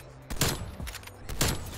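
Sniper rifle shots in Black Ops Cold War multiplayer: two sharp, loud, close cracks about a second apart, each trailed by a short rumble over low background game noise.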